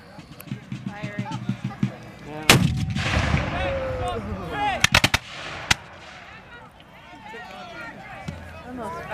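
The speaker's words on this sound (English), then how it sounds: "The cannons on the field here, folks, are light field pieces, 3-pounders." Light 3-pounder field cannons fire at a Revolutionary War reenactment, several sharp booming reports ringing out at a distance amid a crowd's chatter and a voice talking nearby.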